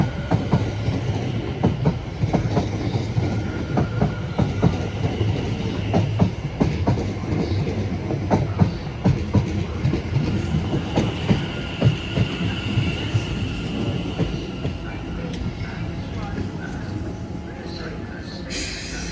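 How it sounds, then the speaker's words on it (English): A Class 450 electric train runs through Clapham Junction toward London Waterloo, with rhythmic clickety-clack wheel beats over a low rumble and a faint wheel squeal, fairly close and steady before easing off near the end. "As 450-053 comes through for London Waterloo"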